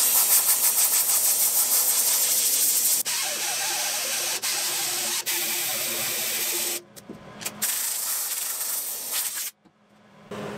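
Hissing spray of water cooling hot sheet metal freshly ground flat after MIG welding repairs to small holes, a loud steady broadband hiss running for several seconds, cutting out briefly before resuming.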